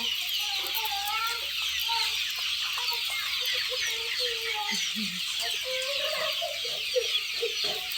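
Many young chicks of a native village breed, about 47 days old, clucking and chirping together in a busy flock on a farm, steady and fairly close, with no talking.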